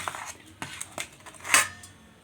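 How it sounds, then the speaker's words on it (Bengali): Mustard oil smeared across a metal plate gives light scrapes and a few soft clinks, ending in one brighter metallic scrape, close and fairly quiet. "এবার একটা থালা নিয়ে নিয়েছি, তাতে দিয়ে দিয়েছি সরষের তেল। এবার তেলটাকে আমি ভালো করে বুলিয়ে নেব।"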